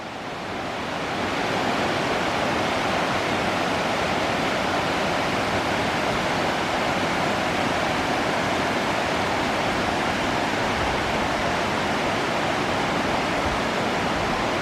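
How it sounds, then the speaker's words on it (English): The Rose River in a backcountry valley runs steadily upstream of its falls, a constant loud rush of water that fills the scene without pause and with no voices. "There's the Rose River, looking upstream."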